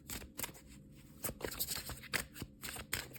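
Tarot cards being shuffled by hand in quick, soft riffling bursts, faint and close, with no talking.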